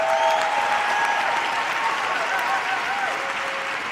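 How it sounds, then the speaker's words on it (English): Conference audience applauding organizers at a Palestine solidarity event, a dense steady wash of clapping throughout with faint overlapping voices and whistles. "please give them a big round of applause for organizing such an event."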